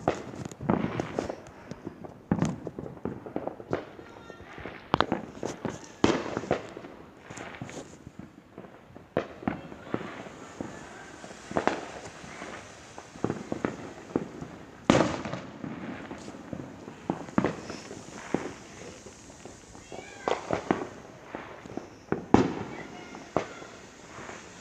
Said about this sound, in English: Oh yeah, they're finally using their firecrackers.